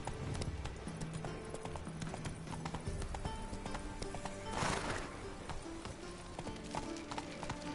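The horse in the video game The Witcher 3 gallops with rapid, rhythmic clip-clop hoofbeats, close and continuous, and a brief whooshing burst midway.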